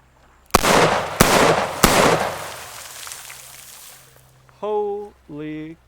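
A Smith & Wesson .460 XVR revolver with a 14-inch barrel fires three double-action shots outdoors, each a loud, sharp boom with a long rolling echo, spaced about 0.6 seconds apart. A person then speaks briefly.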